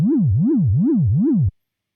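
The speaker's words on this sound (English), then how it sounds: "for now, it's just an LFO on the pitch." A Serum synth sine wave with an LFO sweeping its pitch up and down in a smooth, regular wobble, four even cycles like an old arcade tone, clean and loud, then cut off abruptly into silence.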